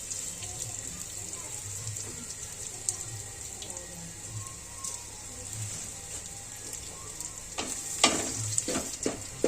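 Spices sizzling in hot oil as a tempering for red lentil dal, a steady crackling fry at moderate volume, then a louder burst of spattering and clatter near the end.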